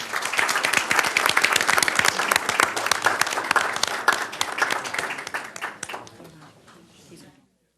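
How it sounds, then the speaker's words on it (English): Audience applause for students receiving certificates at a school board business meeting, brisk distinct claps building loud then thinning and fading out near the end. "Let's give them a warm round of applause"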